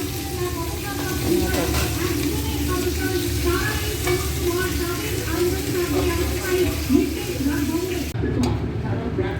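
Shrimp wrapped in bottle gourd leaves fry in oil with a steady, close sizzle and crackle that holds evenly throughout, along with faint stirring sounds and no clear voices.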